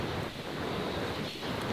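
Wind buffets the microphone in a steady, loud outdoor rush with brief gusty swells on a golf course at Pula Golf Resort.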